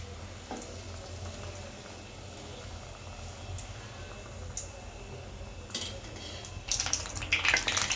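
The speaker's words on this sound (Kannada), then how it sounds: "ಎಲ್ಲನೂ ಉಲ್ಟಾ ಮಾಡಿಕೊಂಡು ಸ್ವಲ್ಪ ಫ್ರೈ ಮಾಡ್ಕೋಬೇಕು" Eggplant bajji deep frying in hot oil gives a soft, steady bubbling hiss throughout, with light clinks and scraping from turning the pieces and a louder crackling burst toward the end.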